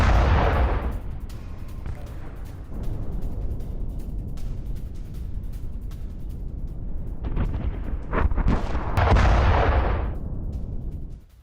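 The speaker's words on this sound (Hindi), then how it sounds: "चासीव यार में Su-27 एयरक्राफ्ट से बमबारी की है।" Bombing explosions from an Su-27 aircraft strike in Chasiv Yar roar and rumble through a heavy wash of noise, with a loud blast at the start and another cluster of bursts near the end.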